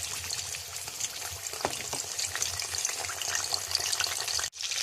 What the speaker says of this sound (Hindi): कुकिंग ऑयल गर्म हो चुका है। जो मछली मैंने रखी थी ब्रश पे 2 घंटे के लिए, अब इसे मैंने फ्राई करना है।